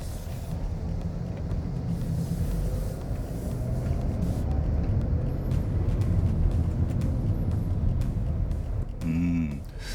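A Mercedes-Benz A220 pulls away from rest, its low engine rumble and road noise steady and close throughout, with a brief tonal mechanical whine near the end.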